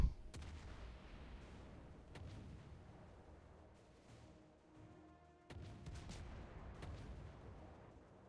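Naval battleship guns booming in a warship battle game, several heavy shots and impacts scattered across the span, loud at first then thinning to a softer rumble before another burst.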